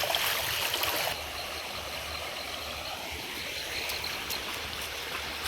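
Warm, steaming stream water flows along the Girnar forest trail, a steady broadband rush that starts louder for the first second and then settles into a constant close-up murmur, with no voices.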